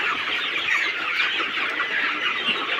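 Sonali super hybrid chickens packed in a curtained poultry shed keep up a loud, unbroken chorus of overlapping clucks as they wait eagerly for food, heard close with no voices.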